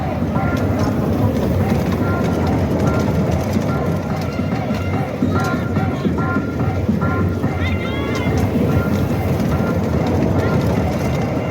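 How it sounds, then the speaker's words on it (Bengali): Mini train ride at the Mymensingh trade fair on the Brahmaputra riverbank, a steady rolling rumble with light rattling, close and fairly loud under wind and a crowd of voices throughout. "এটাকে বলা মিনি ট্রেন"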